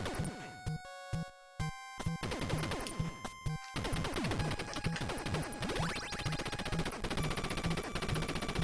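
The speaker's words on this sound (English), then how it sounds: "We got a machine gun." Rapid chiptune machine-gun fire from the NES game Contra, in the alien's lair stage, crackling in dense bursts over a steady game soundtrack with brief gaps early on.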